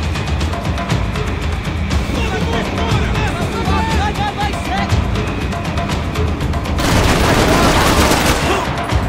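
Rapid gunfire rattles through a firefight in Max Payne 3, dense overlapping shots and automatic bursts that keep up loudly the whole way, with a voice briefly shouting over them.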